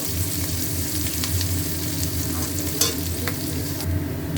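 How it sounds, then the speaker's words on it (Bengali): Chopped onion fries and sizzles in a pan while being stirred, a continuous steady sizzle with occasional scraping stirs, close and moderately loud, with no talking. "পেঁয়াজটা ভালো করে ভাজা হয়ে গেছে।"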